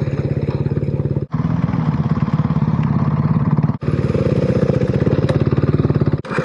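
Motorcycle in first gear on a Dolomites mountain road, its engine giving a loud, rapid, pulsing drone close to the microphone. Two brief gaps break it, likely gear changes or throttle cuts.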